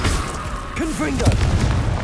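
Confringo blast spell from the video game Hogwarts Legacy: a deep booming burst with a rumbling tail, while a voice calls out over it.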